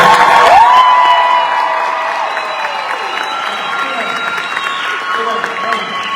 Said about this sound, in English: Somebody cheer for Acosta.